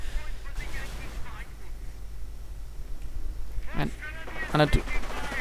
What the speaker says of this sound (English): the barbed wire heavy machine gun opening up, suppressing the engineers and the Rangers